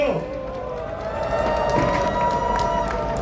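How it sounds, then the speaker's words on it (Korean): A crowd at a citizens' rally in a public square claps and cheers for construction workers and a labor union, a loud, continuous roar of applause with voices shouting throughout. "건설노동자들과 민주노총을 위해서 박수 한번 주십시오."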